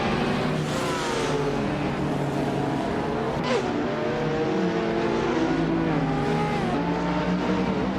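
Race cars in a video game, several engines whining and sweeping up and down in pitch as they jostle, a brief sharp burst midway, loud and continuous with no voices.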